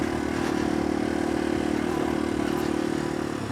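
A small motorbike engine running steadily and close by, a constant mid-pitched drone with a faint rattling texture that stays level throughout, with no talking.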